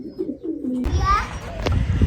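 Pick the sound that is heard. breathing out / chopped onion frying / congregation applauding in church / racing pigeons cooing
racing pigeons cooing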